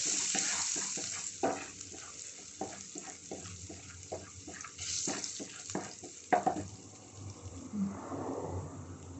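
Frying in oil in a pan while making squid curry, a soft sizzle punctuated by clattering stirring and scraping sounds at irregular intervals, fairly quiet overall.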